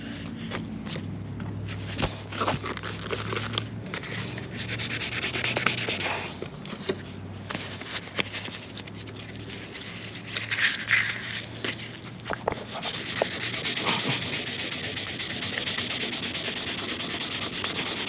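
Truck paint being wet sanded by hand with 800 grit sandpaper, a soft steady rubbing and scrubbing with irregular strokes and light knocks, close and fairly quiet, with no talk.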